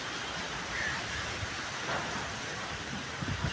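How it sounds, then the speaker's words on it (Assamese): Heavy rain falls during a storm in Guwahati, a steady broadband hiss of downpour heard close and continuous, with no voices over it. "গুৱাহাটীত ইমান দবা বৰষুণ দি আছে"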